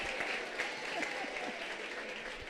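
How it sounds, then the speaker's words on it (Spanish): An audience applauds at an Atomy business event in Colombia, a dense, even wash of many hands clapping together at moderate distance for a couple of seconds. "Démosle un aplauso al español de Jason"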